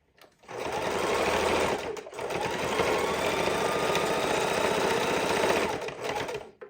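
A sewing machine stitching a fidget quilt runs in a steady, fast mechanical whir, close and continuous, with a brief pause near the two-second mark before resuming and then stopping.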